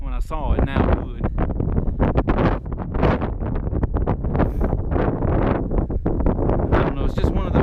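Strong gusts buffet the microphone on a mountain trail at Mt McConnel, a loud, continuous rumble and roar that rises and falls without pause.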